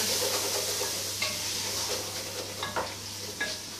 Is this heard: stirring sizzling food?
yes